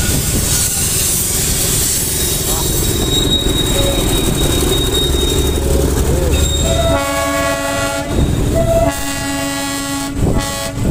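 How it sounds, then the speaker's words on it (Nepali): The Darjeeling toy train rolls past loud and close with a continuous rumble and clatter, then gives several blasts of its horn near the end. "दार्जिलिङको ट्रेन देखाउँछु म तपाईँलाई"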